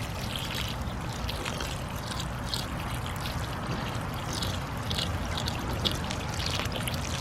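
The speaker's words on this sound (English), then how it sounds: "Now I just fill it up to right over the level of the grain, and then it soaks up all the water" Water pours and trickles steadily into a bucket of chicken grain feed with sunflower seeds, a continuous splashing gush heard close and alone.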